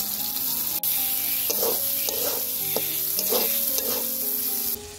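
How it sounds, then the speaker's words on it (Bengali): Shrimp sautéing in a spice masala for a Bangladeshi dish, a dense close sizzle with several rhythmic spatula scrapes and a sharp knock early on, fading out at the end. "চিংড়ি মাছটা ভালোভাবে কষে নিচ্ছি"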